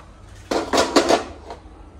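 A metal lid clatters onto a frying pan while chicken is fried in a home kitchen, a short cluster of close clanks and scrapes lasting about a second.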